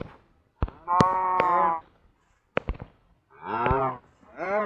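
Several Minecraft cows moo in drawn-out calls separated by sharp percussive bangs, with brief pauses of quiet between the lowing.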